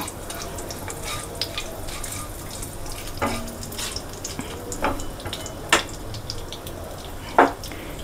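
Cumin, mustard seeds, dried chilli and asafoetida sizzle softly in hot oil while being stirred, a low, even crackle broken by a few sharp clinks and scrapes.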